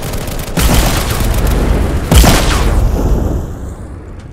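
Loud booming blasts in Roblox Base Battles, one heavy explosion followed by a second that rumbles and fades out, dense and close.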